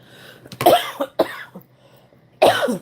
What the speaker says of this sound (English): I wasn't coughing before I started this video